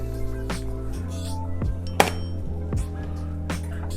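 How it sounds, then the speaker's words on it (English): A wire whisk mixing seasoned ingredients in a bowl for mustard fried chicken tenders, with a few close clinks and taps against the bowl over a low background hum, including one sharper hit midway. "I'm just going to use a wire whisk to mix everything up."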